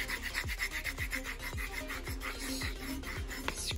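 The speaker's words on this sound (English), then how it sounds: "take my squeegee for vinyl and run it down" A vinyl squeegee scrapes firmly down the seam of a glass bottle in a regular series of raspy strokes, about two per second, close and clear.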